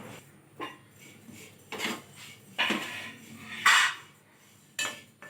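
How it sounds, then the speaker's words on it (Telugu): Sesame seeds dry-roasting in a pan for multigrain laddu, heard as a few separate rattling, clinking stirs of the pan and spoon with quiet gaps between them. "మీకు చూపించిన విధంగా నువ్వులను వేయించుకోండి."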